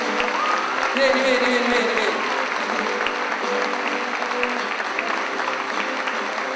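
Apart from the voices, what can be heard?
audience applause for a church choir at a Christmas concert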